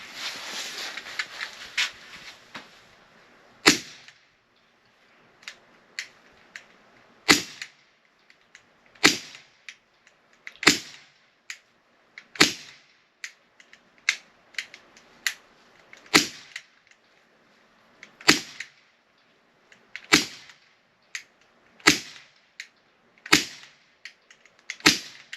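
Shots from an AEA HP SS semi-automatic .22 air rifle firing 18.1-grain FX pellets, about a dozen sharp cracks spaced a second or two apart after a brief hiss, loud and close with no talk.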